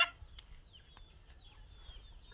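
Chickens cluck softly in front of a house at low volume, with a few short, scattered calls over quiet background noise.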